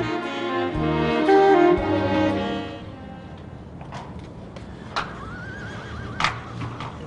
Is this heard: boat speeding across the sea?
no